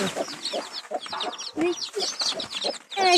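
Hens cluck repeatedly in short, close bursts, a busy run of clucks with a few higher calls, loud and near.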